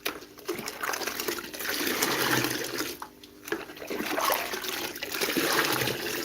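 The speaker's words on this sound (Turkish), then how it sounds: "şuradan biraz su ekleyeyim" Water is poured into a container in a steady trickling, gushing stream that breaks off briefly around the middle and then resumes, close and moderately loud, with no talking.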